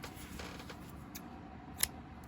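Small scissors snip away a red tatting thread in quiet room tone, with a single soft, sharp click near the end and a few faint rustles before it.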